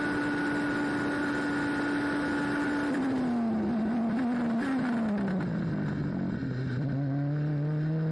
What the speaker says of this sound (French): Lawson revient fort sur Nojiri et va le dépasser avec probablement déjà un des dépassements de l'année